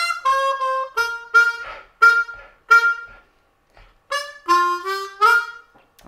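Eb harmonica lick from the intro of a song, bright bent draw notes and slides in short phrases separated by brief pauses, close and clear with no talking.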